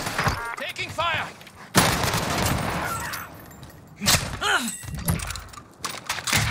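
Gunfire on Rebirth Island in Call of Duty Warzone, with sharp shots and bursts breaking through close, loud game action, alongside other in-game sounds and possible voices.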